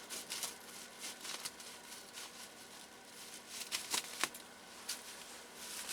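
Stretch wrap being cut back with scissors while packing a vintage sewing machine in a bentwood case, a run of quiet, close crinkling snips and rustles with a few sharper cuts.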